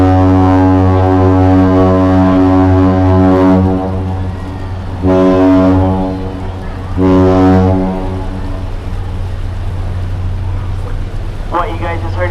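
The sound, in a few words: ship horn Captain Salute from the freighter Presque Isle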